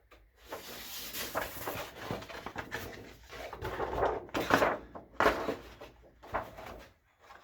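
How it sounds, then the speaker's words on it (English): Scissors cut through cardboard in a series of crunchy snips and rustles of uneven loudness, separated by brief pauses, close by with no speech. "So I'll get myself some scissors, and if we carefully cut that"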